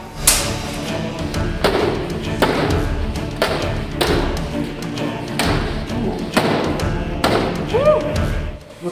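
A heavy medieval gauntlet strikes a riot shield repeatedly, each blow a loud, close thud at roughly one-second intervals, with a voice briefly heard near the end.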